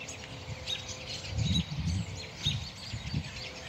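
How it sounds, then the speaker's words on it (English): Many birds chirping outdoors on a cold or mild day, faint overlapping tweets and calls spread through the clip with soft background noise. "these birds are talking to each other and communicating"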